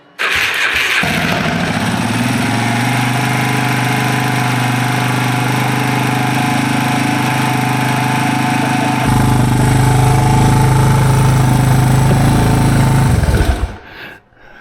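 A rebuilt Pontiac engine with the choke on fires up and runs loud and steady, then shifts to a deeper, heavier idle partway through before cutting off near the end.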